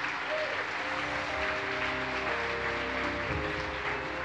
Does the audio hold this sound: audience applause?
yes